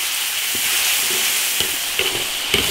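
Chili bean paste, ginger, garlic, scallion and spices frying in hot oil in an iron wok: a steady, close sizzle broken by a few sharp spatula scrapes and knocks.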